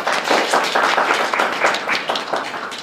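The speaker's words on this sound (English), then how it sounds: "Round of applause" Brisk applause from a convention panel audience at a furry fandom event, a close, lively patter of many hands clapping for a few seconds before easing off.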